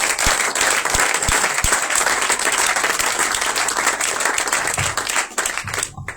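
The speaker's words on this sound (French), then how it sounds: "Acclamons encore le Seigneur Jésus-Christ" An audience at a French-language church conference applauds loudly and continuously for about six seconds, a dense close wash of clapping that fades at the end.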